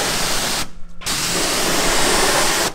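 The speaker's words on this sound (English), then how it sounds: "Oh, I love spraying the paper like that." A steady hissing spray onto sandpaper while wet-sanding paint on an Acura RSX Type S runs almost throughout, broken by a brief pause near the start before resuming at an even, loud level.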